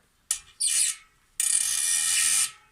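A 15 mm ratcheting wrench tightens the spokes of a bent bicycle wheel, giving two close, crisp ratcheting bursts, one short and one longer, with quiet between.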